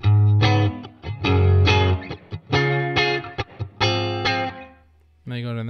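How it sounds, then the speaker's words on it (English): Distorted electric guitar through a Quad Cortex modeler plays short phrases with a brief reverb tail, notes cutting off quickly between bursts. "So now we have a short reverb."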